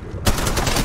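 Automatic gunfire in the mobile shooter Apex Legends Mobile breaks out abruptly after a brief quiet stretch and runs on as a dense, rapid, loud burst, with no speech.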